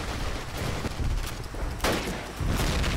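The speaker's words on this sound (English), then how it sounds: "let's just grenade in there, just in case" A grenade blast and gunfire during a base assault on the Italy map in Call of Duty: United Offensive, with close, loud shots crackling throughout and a sharp, heavier bang roughly two-thirds of the way through.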